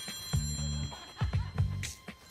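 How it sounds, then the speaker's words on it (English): A telephone rings loudly and close by in a television studio, several short bursts of electronic trilling in quick succession, with no talk over them. "Oh, there's a phone!"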